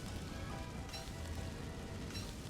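Steady rain falling in a video game, a constant, even hiss of drops on surfaces that holds at the same level throughout with no voices over it.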